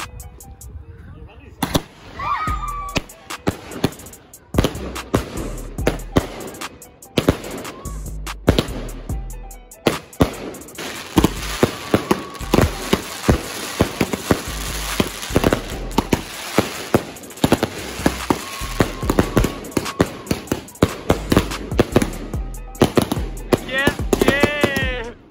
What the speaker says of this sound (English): now it's the start of fireworks.